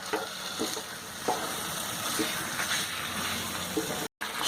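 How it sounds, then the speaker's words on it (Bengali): Marinated chicken frying in a hot pan with spice paste and saffron soaked in kewra water, a steady close sizzle with occasional stirring scrapes and a brief pause near the end. "এবার ম্যারিনেট করা চিকেন দিয়ে দিতে হবে"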